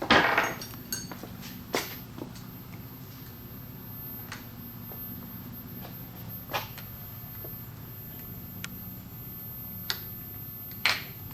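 Bolts being removed from the cap of an industrial reverse osmosis membrane housing: sparse, sharp metallic clicks and taps spaced several seconds apart over a low, steady machinery hum.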